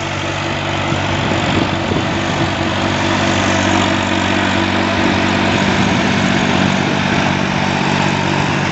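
Two tractors, a Valtra A950R and a Massey Ferguson 4275, harrow loose soil together, giving a steady, loud diesel engine drone that holds even throughout with no talk over it.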